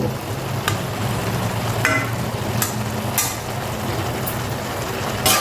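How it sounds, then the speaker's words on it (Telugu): Pieces of sweet corn being stirred in a pan as they cook, giving a steady soft sizzle with light scraping strokes and occasional sharper clicks of the utensil against the pan, moderately close and without talk. "ఇవన్నీ అటు ఇటు తిప్పుతూ చక్కగా ఉడకపెట్టేసుకోండి ఈ స్వీట్ కార్న్ ముక్కలన్నీ"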